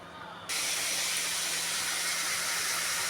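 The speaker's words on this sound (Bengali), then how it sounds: "এখানে চিংড়ি মাছটা ভাজা হচ্ছে" Prawns frying in hot oil, a loud steady sizzling hiss that starts abruptly after a brief quiet moment and carries on evenly up close, with no talking.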